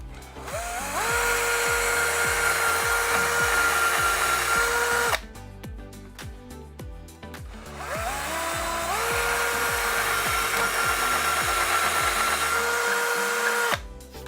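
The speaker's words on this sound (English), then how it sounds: "we're ready to drill the final 2 holes." A cordless power drill bores holes while a wooden blind is fitted, two long steady whirring runs of several seconds each with a short pause between, loud and close.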